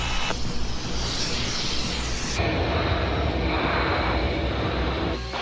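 A Saab Gripen jet flying an air display gives a loud, continuous roar that holds steady for the whole stretch, with a shift in tone partway through and no voices over it.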